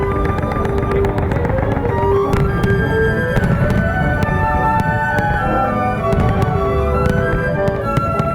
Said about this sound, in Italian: Petardi come Trons de Bac, le Mascletaes o i fuochi d'artificio della Nit del Foc